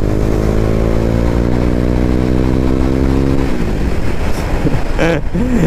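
A KTM Duke 390 BS4 motorcycle engine runs close and loud, holding a steady harmonic drone before the revs drop off into an uneven, throbbing idle with quick rising and falling blips near the end.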